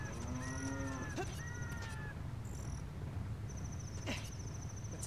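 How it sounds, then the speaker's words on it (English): A cow in the Zelda: Ocarina of Time video game gives two short, loud moos close by, then a quieter third call, over steady game ambience with chimes. "Mr. Cow though, it sucks that you're in there."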